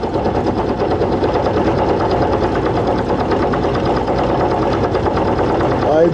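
A mini milling machine cutting metal grinds and hums continuously, a dense, steady mechanical drone with buzzing vibration, loud and close throughout, with a slight rise near the end.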